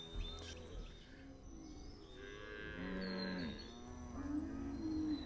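Cattle moo on open savanna grassland where herds roam free, with several drawn-out, low lowing calls overlapping at mid distance and a few faint bird chirps behind them.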